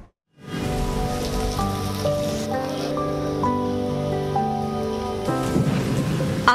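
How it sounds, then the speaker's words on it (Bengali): Heavy monsoon rain pours down in a steady, dense hiss over a city, with music playing over it and swelling toward the end. "আকাশ ভেঙে মেঘের গর্জন, তার ফাঁকে ফাঁকে বিদ্যুতের ঝলক, অবশেষে ধরিত্রীতে অঝোর ধারার বর্ষণ।"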